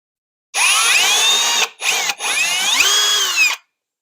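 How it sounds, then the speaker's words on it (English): A power drill bores into punched holes while a drop-block knife storage unit is installed under a cabinet, whining up in a loud close burst, cutting off twice briefly, then spinning on before stopping. "I'll use the drill to go into the holes I punched"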